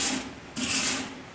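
Two strokes of sandpaper rubbing a knife blade from tip to base, a gritty scraping back and forth, close up and steady.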